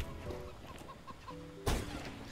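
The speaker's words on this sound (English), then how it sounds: "CSGO chicken!" A chicken in the video game CS:GO clucks in a few short, soft calls over quiet game background, followed by a louder burst of noise near the end.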